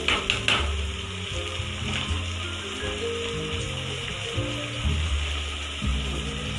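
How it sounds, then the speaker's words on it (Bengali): Spices fry in a pan for a chicken curry with a continuous close sizzle, broken by stirring scrapes and a few louder bursts as the mixture is moved around. "এই মশলাটাকে ভালো করে কষাতে হবে"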